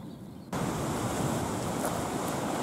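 Ocean surf washes along a cliffside shore as the tide moves in and out, a broad, loud, steady rush starting abruptly and continuing without pause, with wind buffeting the microphone.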